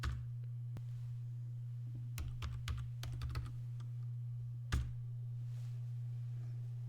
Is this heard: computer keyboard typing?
yes